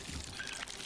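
Water pours briefly from a small canteen onto plants in the survival video game Icarus, a soft, quiet trickle with no talk over it.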